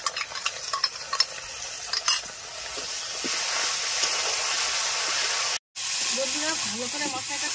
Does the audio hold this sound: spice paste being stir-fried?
yes